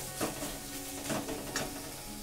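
Thinly sliced tomato frying in the masala for a Bengali rui fish curry, a soft sizzle with a few light stirring scrapes.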